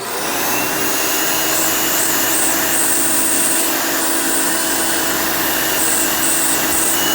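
A Hoover Elite 200 U4455 upright vacuum cleaner runs steadily and loudly throughout, a constant roaring whine with a faint high tone that wavers slightly.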